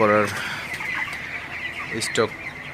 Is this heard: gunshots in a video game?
no